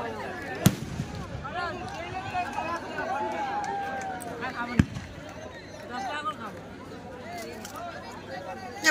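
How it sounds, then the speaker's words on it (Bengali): Firecrackers burst at a Charak Puja fair as a few sharp, isolated cracks, fairly loud, amid crowd chatter and nearby talking. "আর এদিকে যাত্রা শুরু হওয়ার আগে কিছু বাজি ফাটানো হয়ে যাচ্ছে।"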